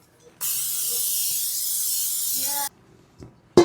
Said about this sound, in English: so we're going to grease another 9x13